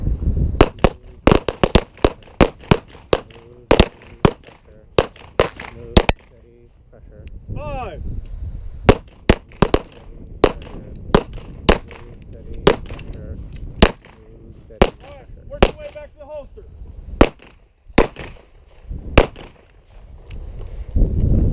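Defensive pistol shots fired at a target on a shooting range, a long series of sharp, loud cracks in irregular groups, some rapid pairs and some spaced singles, with an instructor's voice talking between them.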